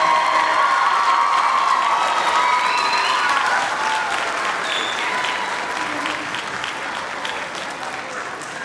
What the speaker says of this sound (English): can we get like another round of applause for these fine young men and women?